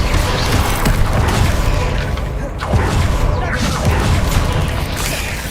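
Rapid-fire Confringo, Incendio and Bombarda spells burst in the video game Hogwarts Legacy, a loud run of booms, crashes and thuds that pile up almost without pause.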